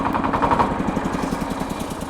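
A small Shifeng or Xingtai 240 mini tractor diesel chugs in rapid, even knocks close by, the pulses fading slightly as it winds down, with no voice over it.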